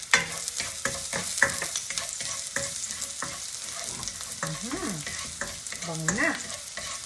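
Garlic fries and sizzles in a pan while a utensil scrapes and stirs it in repeated short strokes, a steady crackle running underneath, close and moderately loud with no voices.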